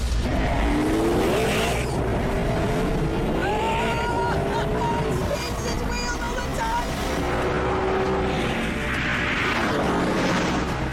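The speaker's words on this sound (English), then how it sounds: "twin-turbo V12 made specially for it by AMG, which, once petrol is applied, makes 730 brake horsepower" A 730-horsepower AMG twin-turbo V12 supercar engine accelerates hard and loud, its pitch climbing through several rising sweeps between gear changes, with a continuous roar and whine filling the whole stretch.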